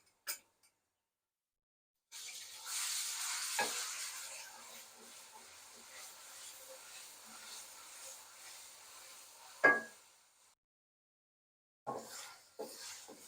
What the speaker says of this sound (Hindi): लहसुन को भी थोड़ा सा फ्राई करेंगे।